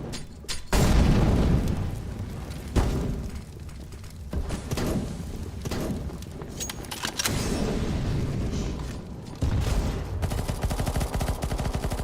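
A flashbang grenade going off in the video game CS:GO, loud bursts and booms mixed with gunfire across a busy match, no talk.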